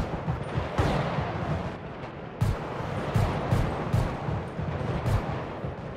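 Rifle gunfire cracks repeatedly in a GTA V gang war, a series of sharp, close shots fired at an irregular pace over a continuous rumbling game background.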